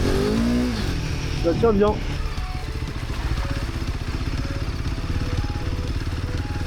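A Royal Enfield Himalayan 450 motorcycle engine runs steadily at low throttle on a muddy off-road trail, a close, continuous drone with a brief rise near the start, while a rider speaks over it.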